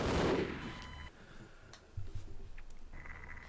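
An automated turret opens fire in the PS2 version of Half-Life, a loud burst up front followed by rattling, uneven bursts of game gunfire that continue at a lower level.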